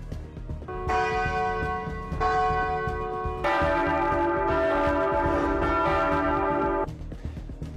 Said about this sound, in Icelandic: Kirkjuklukkum var hringt hérlendis til stuðnings íbúum á Gaza.